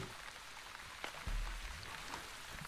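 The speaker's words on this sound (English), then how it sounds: "The sound of the rain in the game is soothing." In the video game Wandering Village, soft rain patters on surfaces in a faint, even hiss, with a few scattered drops and a low thump partway through.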